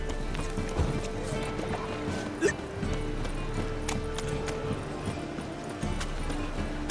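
Horse hooves clop in the video game Witcher 3, set against a steady game soundscape, with a brief sharper burst that could be a whinny; the sound is moderate and close.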